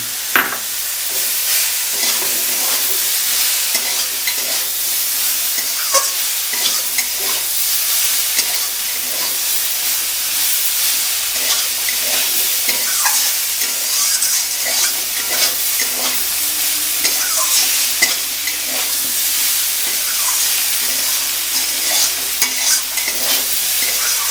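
Soybean and egg curry with homemade spice paste stir-frying in a pan, giving a loud, steady, close sizzle with constant hiss and scattered scraping stirs, with no talking.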